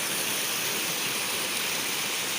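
Water rushing steadily through a canal, a dense, continuous broadband roar that stays loud and unbroken throughout, close by with no voices.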